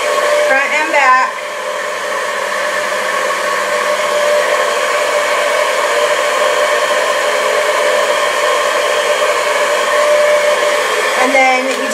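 A handheld blow dryer blasts hot air onto a hair curl, a loud steady whir running unbroken for about ten seconds with a brief change in pitch near the start and end.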